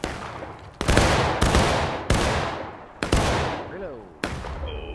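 Musket volleys crack out in War of Rights, five or six loud, sharp broadside blasts spaced about a second apart, each rolling into a long echoing tail, with muffled voices under the firing.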